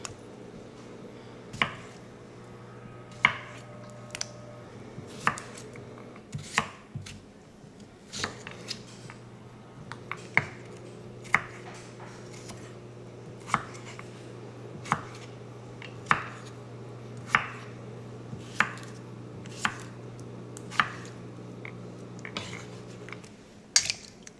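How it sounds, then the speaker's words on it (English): A knife chops small peeled potatoes on a cutting board for potato salad, sharp, clear thunks landing in an irregular but steady rhythm, close up, over a faint background hum with no talking. "I'm just going to chop them up, throw them in there."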